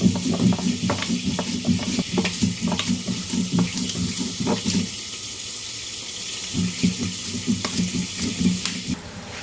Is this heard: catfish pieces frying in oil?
yes